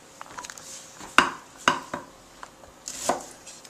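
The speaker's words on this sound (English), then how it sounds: "Now for the onion. Cut out the core." A knife chops through an onion on a cutting board while a raw summer shrimp salad with tomato salsa is prepared, giving three or four sharp, close knocks spaced unevenly over a few seconds, with quiet kitchen handling between them.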